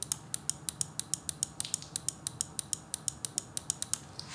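A G-Wolves Hati S Ace gaming mouse fitted with Kailh 8.0 switches clicks repeatedly in an even rhythm, with crisp, close, evenly spaced clicks and no talking.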